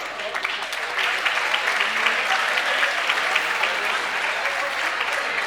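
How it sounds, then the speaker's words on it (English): Audience applause at a polo hall of fame induction ceremony, a dense, steady clapping from a sizeable crowd filling the room, rising at the start and sustained throughout. "So I'd like to give a round of applause to everyone who's here"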